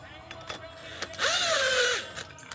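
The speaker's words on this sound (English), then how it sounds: "I'm just gonna go ahead and tighten the top 19." A power tool tightens the top 19 mm nut on an air ride bag of an Infiniti Q50, giving one close, loud motor whine of under a second that rises and then falls, with light clicks of handling before and after.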